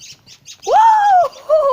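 Birds squabbling: quick faint chirps give way to loud, drawn-out squawking calls up close, first one long cry and then a second after a short pause.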